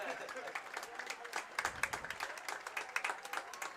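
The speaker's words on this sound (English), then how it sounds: "that is the applause for the paramedics and for the injured Fullerton personnel getting carted away" Crowd applause at a college football game between ELAC and Fullerton, given for paramedics and injured Fullerton personnel being carted off, scattered distant clapping that rises and falls beneath an announcer's voice.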